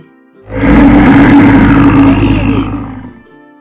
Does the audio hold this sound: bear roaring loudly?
yes